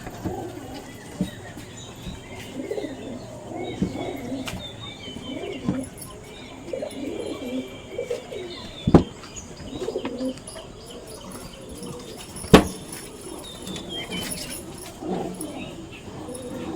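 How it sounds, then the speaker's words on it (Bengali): Pigeons kept for sale in Canning, West Bengal coo in low overlapping phrases close by, with scuffling, a few sharp knocks and faint metallic jingles, while some indistinct human sound sits under the birds. "সুস্থ সবল পায়রা,"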